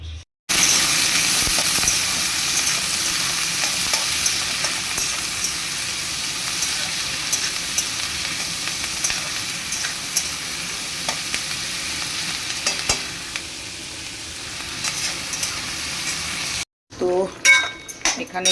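Soybean curry cooks in a pan with a constant close sizzle, broken by scrapes and clinks of stirring, then a brief pause and some rustling at the end.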